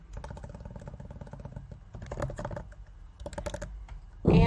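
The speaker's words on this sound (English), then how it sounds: "type in my password" Password being typed on a computer keyboard: several close bursts of rapid key presses separated by short pauses, ending on a louder thump, with no voice.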